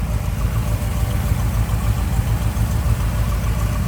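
A 1957 Ford Fairlane 500 convertible's rebuilt 312 V8 idles smoothly up close, a steady low rumble with an even, continuous pulse and no voices.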